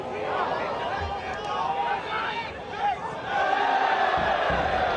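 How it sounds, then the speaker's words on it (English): A soccer crowd and team bench shout in a loose mass of voices during a college men's match, with a commentator talking over the noise. "Shouts from the crowd and from the bench for Maryland."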